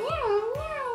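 A person imitates a cat with a single drawn-out meow, close and clear, rising and falling in pitch.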